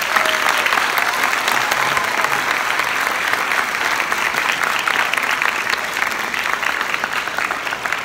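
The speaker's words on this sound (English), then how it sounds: "Haygood a big round of applause." Loud, sustained audience applause for author Wil Haygood at a live event, thick continuous clapping from a large crowd that fills the room evenly throughout.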